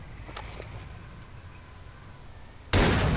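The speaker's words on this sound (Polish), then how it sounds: "Strzał." A single sharp, loud gunshot in S.T.A.L.K.E.R.: Call of Pripyat with the Misery mod bursts out near the end after a quiet stretch of low ambient hum.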